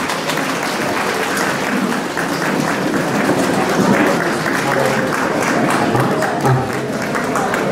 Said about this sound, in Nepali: जोरदार तालीहरू पनि सम्मान गरौँ